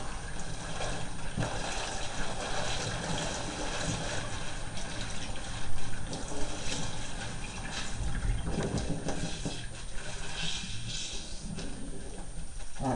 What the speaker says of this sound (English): Give this bag a quick rinse.